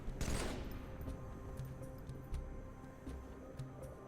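Gunfire in Halo 3 aimed at a Grunt enemy: a loud opening burst followed by a string of quieter, evenly spaced shots and impacts against a low rumbling game backdrop.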